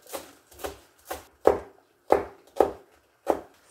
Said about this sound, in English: And then just roughly chop your spring onions.